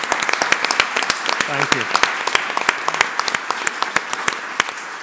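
Audience applause after a university talk, a full room of steady clapping with distinct sharp individual claps, while a voice briefly offers thanks over it.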